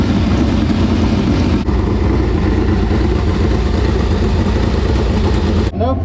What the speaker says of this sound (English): we're gonna hop in this thing, fire it up, and get some engine heat